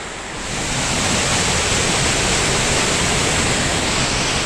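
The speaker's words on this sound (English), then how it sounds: "I think that's waterfall number 4." A Rocky Mountain waterfall in Alberta roars steadily and loudly, a dense, continuous rush of falling water that fills the whole clip with no voices.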